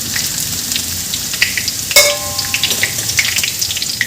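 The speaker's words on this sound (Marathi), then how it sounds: "हे मी छान खरपूस तळून घेते" Garlic frying until crisp in a pan over low to medium heat, a steady close sizzle and crackle with a sharper pop around the two-second mark.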